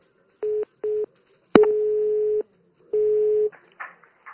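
A telephone line goes dead after a prank call is cut off, leaving steady electronic tones: two short beeps, a sharp click, then longer sustained tones with pauses between, loud and close, ending in a brief muffled noise.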